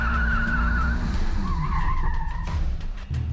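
Tires skidding and squealing on a car during an autocross run on 200 treadwear tires, a loud, wavering screech over engine roar that rises and bends in pitch across the run, close and intense.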